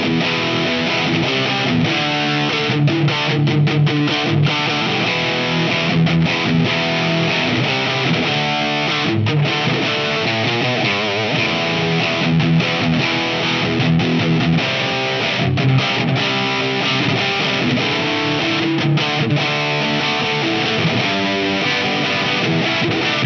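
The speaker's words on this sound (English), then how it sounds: "off with the delay, back with the room reverb, and let's see how crunchy can this thing get." A crunchy, heavily distorted electric guitar played through a Line 6 POD GO multi-effects unit with room reverb, loud and continuous, with chugging riffs and sustained chords and no talking.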